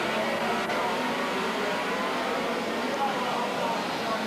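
Racing karts on the rolling lap of a 1992 European karting championship final, a dense, steady engine drone from a pack of karts filling the scene at moderate loudness, with a commentator's voice over it.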